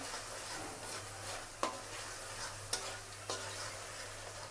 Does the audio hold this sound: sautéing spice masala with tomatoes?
yes